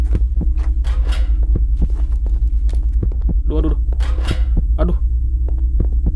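A low, steady electrical hum from transformer repairs in the game Grandpa & Granny 4 drones continuously under a player's voice, with scattered thumps and clicks from in-game movement.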